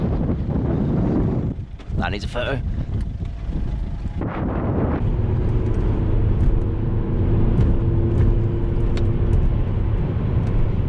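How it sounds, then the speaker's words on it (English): Strong wind buffeting a microphone on a Welsh hillside, a dense low roar that gusts steadily throughout, with a brief spoken remark early on and a vehicle engine hum underneath. "Oh my god, so windy though."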